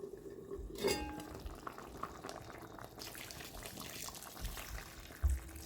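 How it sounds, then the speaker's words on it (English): Hot water pours into a pot of tilapia soup with tomato passata: a quiet, continuous splashing and gurgling that runs for several seconds, with a soft clank near the end. "So now I'm adding water to it. I'm adding hot water."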